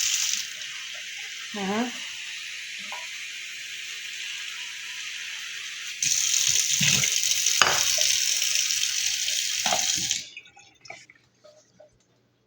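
A kitchen tap runs cold water into a bowl for cooling boiled eggs, a steady rushing stream that grows louder midway and then cuts off, leaving a few faint drips and clinks, with a brief murmur of voice.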